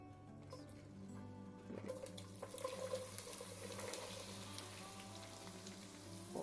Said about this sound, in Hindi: ऑयल हमारा हो गया है गर्म व्यूअर्स, तो अब इसमें बहुत एहतियात से भिंडियाँ ऐड कर देंगे।